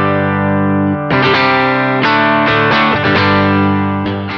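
A Fender Stratocaster on its bridge pickup plays straight into an amp with the gain at 3 of 10. A held chord rings first, then a run of loud, close strummed and picked chords with sharp attacks follows.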